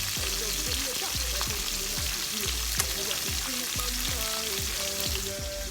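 Herring sprats seasoned with black pepper and salt frying in oil for escovitch fish: a dense, constant loud sizzle and crackle filling the whole stretch, with a low rhythmic pulsing hum underneath.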